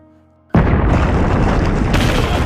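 A cannon blast erupts during a Russian attack on a battlefield position: after near silence, one sudden, very loud boom hits and rolls on as a dense, sustained rumble.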